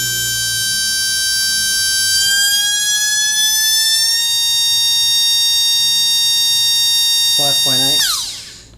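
An RC electric motor on an analyzer whines at a high, steady pitch near 55,000 RPM, its tone rising then holding before spinning down at the end, with a voice speaking briefly near the close.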